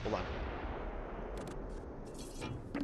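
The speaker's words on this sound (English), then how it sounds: "They're after Garcia with the mortars" Mortar fire in the WWII strategy game Close Combat III, with dull, distant thuds and crackling bursts over a constant rumbling battlefield noise.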